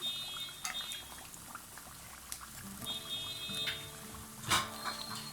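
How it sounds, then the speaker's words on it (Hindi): Chicken potato samosa pinwheels deep-frying in hot oil, a quiet steady bubbling and crackle with a few faint clinks of utensils against the pan. "बस तकरीबन 1 मिनट तक मैं मज़ीद इन्हें और फ्राई करूँगी"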